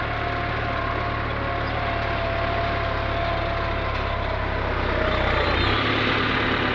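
A tractor engine runs steadily during a sugar beet harvest on a Polish farm, a loud, continuous close-up drone with no pauses, shifting slightly in tone near the end.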